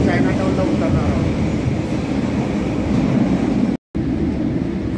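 A Chicago CTA metro train rumbles through an underground tunnel, a loud, steady roar that fills the whole stretch, broken by a brief cut near the end, with a voice talking faintly beneath it.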